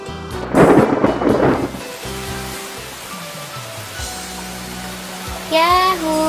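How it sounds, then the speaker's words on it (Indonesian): Heavy thunder rolls and rumbles loudly over a steady downpour of rain, with a deep crack early on and the storm continuing before a brief voice is heard near the end. "Ya hujan."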